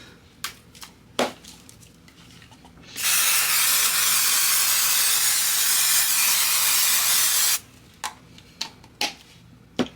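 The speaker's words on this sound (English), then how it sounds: "we're going to use spray glue to hold this down" A steady, loud hiss of spray adhesive from an aerosol can lasts several seconds, framed by scattered clicks and taps before and after.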